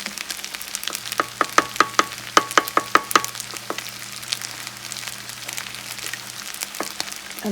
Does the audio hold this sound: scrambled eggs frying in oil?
yes